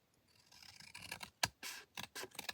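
Scissors trimming paper during a craft project: a series of short, crisp snips and scratchy cuts, close and fairly quiet, with no talking.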